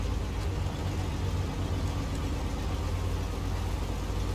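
A Western Star truck engine in SnowRunner runs with a steady, low-pitched drone, moderately loud and continuous with no talk over it.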